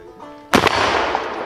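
A muzzleloading smoothbore fowler fires outdoors at a shoot in Fawn Creek, Montana, one sharp loud blast after a quiet moment, followed by a long rolling echo that fades slowly.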